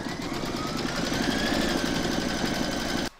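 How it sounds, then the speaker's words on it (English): Embroidery machine stitching batting in the hoop for an in-the-hoop sloth applique, a close, fast, steady mechanical rattle that runs without pause and then stops abruptly near the end. "Pop your hoop into your machine and stitch round number 2,"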